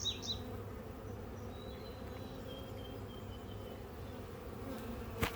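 Honeybees hum in a low, continuous buzz around an open hive in a bee yard during an inspection, a faint steady drone with a few individual bees passing close.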